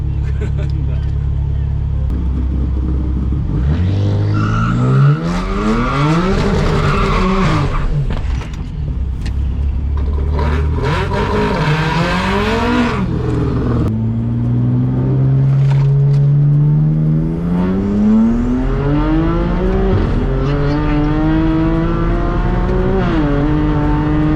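A BMW E90 335 race car pulls hard through the gears on a track run, its loud close engine climbing in repeated rising sweeps with pauses at each shift, while a voice speaks over the engine noise.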